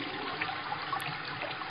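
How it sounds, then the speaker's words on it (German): In the video game Klomanager Deluxe, a toilet flush comes through as a steady, moderately loud wash of running water, with no voices over it. "Eine höhere Spülung."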